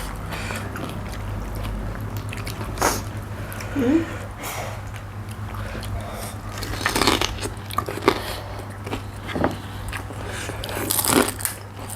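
Crunchy crispy pork eaten alongside papaya salad, with close crisp bites and chewing crunches recurring in irregular bursts over a low steady hum, mostly without talk.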